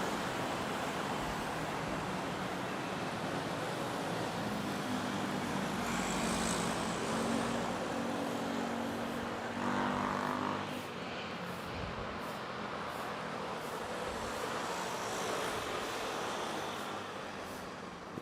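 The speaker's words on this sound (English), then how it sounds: "So a smooth takeoff with Japan Airlines" Japan Airlines Boeing 787-9 jetliner taking off from Manila airport, a steady broad roar of jet engines with a brief swelling rumble mid-way, heard at a distance amid traffic-like ambient noise, no talking.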